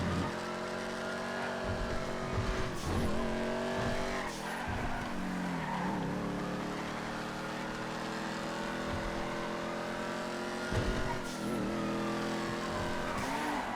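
Race cars in a GTA FiveM video game race, engines roaring and revving with rising and falling pitch through gear changes and tire squeal, loud and continuous.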